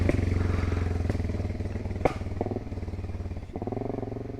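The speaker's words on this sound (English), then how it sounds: "That little backfire there." Aprilia Tuareg 660 motorcycle engine running steadily up close, with a few sharp cracking pops from the exhaust breaking through the rumble, one standing out clearly near the middle.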